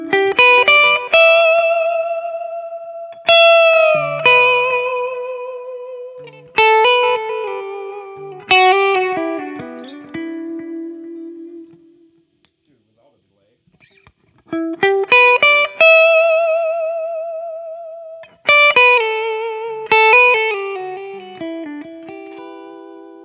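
Electric guitar played through a Harley Benton digital delay pedal set to about 300 milliseconds, with few repeats at low level; clean plucked notes and chords ring out in phrases, each trailing soft echoes, with a short pause midway.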